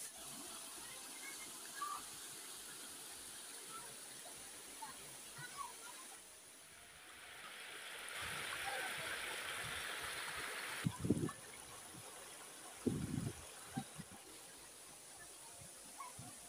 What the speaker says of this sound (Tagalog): Maganda na yung falls na ito.